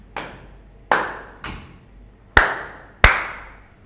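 Five sharp, loud hand claps ring out in an irregular sequence, each with a short decaying tail, made to sync audio at the start of a talk show recording.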